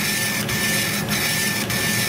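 Laser cutter head moving fast at 400 mm per second over a steady mechanical drone, with three brief bursts or clicks spaced roughly every half second as the nozzle reverses.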